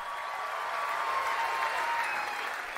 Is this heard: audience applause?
yes